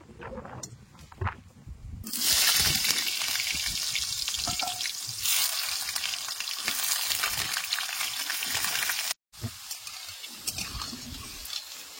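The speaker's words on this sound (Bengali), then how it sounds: "এবার আমি আলুগুলো ভাজে নেব।" Potatoes frying in oil left from frying onions, a loud, steady sizzle that swells after a quieter start, with faint stirring scrapes and a brief break near the end.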